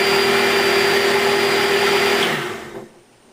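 An electric mixer blends boilie bait paste for carp fishing, a loud close motor whine holding steady before winding down and stopping near the end.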